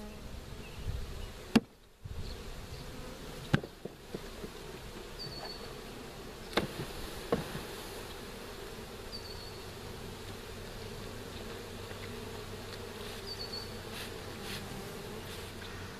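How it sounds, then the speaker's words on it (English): A steady, dense buzz of package honeybees drones inside a box throughout at moderate level, broken by a few sharp knocks and thumps near the start. "When you're shaking the bees out of this box"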